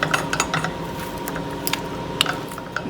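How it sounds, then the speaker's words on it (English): A spoon scrapes and clacks against a pan while egg and vanilla are worked into churro dough, a steady run of close, scraping strokes punctuated by sharper metallic knocks, with no talking. "Let's mix it in."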